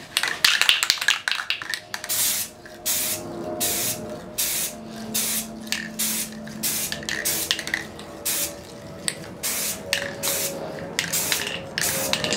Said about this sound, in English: Whatever, I'm just going to spray it now actually, so it's irrelevant.